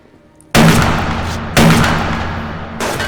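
Two loud, booming gunshots from a weapon in the video game Subsistence, the first at about half a second and the second a second later, each with a long ringing decay and a third blast starting near the end.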